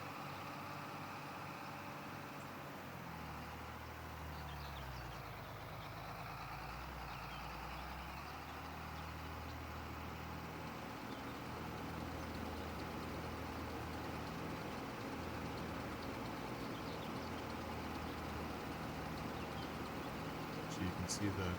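A combine in Farming Simulator 25 unloads wheat into a truck: a steady low engine drone with a faint mechanical hum, continuous and moderately loud, with a voice talking over it.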